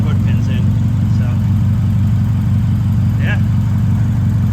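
A car engine idles close by with a loud, steady, rhythmic low throb, running smoothly and evenly throughout.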